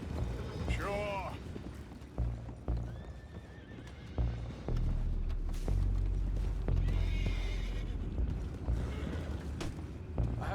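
Horses whinny and neigh several times over clattering hooves and creaking, busy background noise, with occasional voices, in the video game Red Dead Redemption 2.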